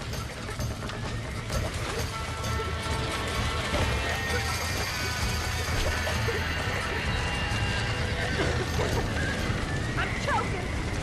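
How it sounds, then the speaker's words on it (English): Horses neighing and galloping in the Western video game Red Dead Redemption, with steady hoof clatter and whinnies under a dense, busy game mix of other effects and voices. "horses!"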